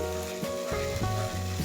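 Spices for a chicken kofta curry fry in a pan with a strong, close sizzle while being stirred, a few scraping strokes breaking the continuous crackle.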